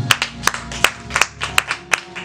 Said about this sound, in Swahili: pige makofi mazuri.